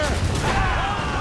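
Booming cannon fire from sailing ships in a naval battle in Assassin's Creed Rogue, a loud dense rumble filling the whole moment with no break.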